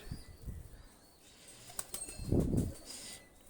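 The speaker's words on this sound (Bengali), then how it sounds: "আমি দেখাচ্ছি দেখেন এটা হলো নর কবুতার" Male Pakistani high flyer pigeon flapping its wings in bursts while being held, with soft irregular wing beats and a louder flurry near the end, close and fairly quiet.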